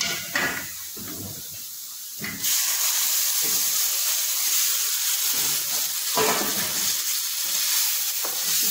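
Onion frying in a pan with tomatoes tipped in, a steady broad sizzle with occasional stirring scrapes, swelling louder partway through and continuing close and alone.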